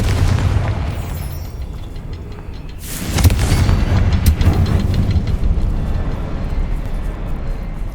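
The Confringo fire spell in Hogwarts Legacy bursts into a heavy, booming blast partway through, rumbling loudly over steady game ambience before slowly settling into a sustained low roar.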